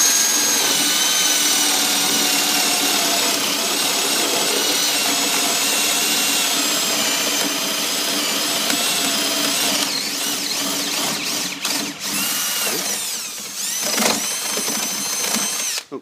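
A power drill with a 3/4 inch bit bores a recess for a contact, whining loud and continuous for most of the time, then stuttering with brief dips and bursts near the end as it is eased in and out.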